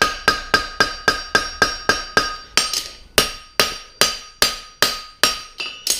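Hammer tapping a horseshoe on an anvil while a heart bar shoe with a 3-inch frog plate is worked, steady light metallic taps, about two per second, ringing clearly with a bright tone and no talk.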